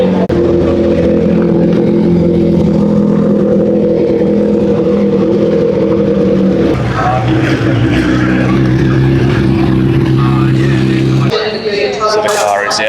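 A race car engine holds a loud, steady droning idle on race day at the track, its pitch stepping to new levels twice, with voices faintly mixed in throughout.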